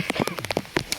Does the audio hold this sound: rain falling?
yes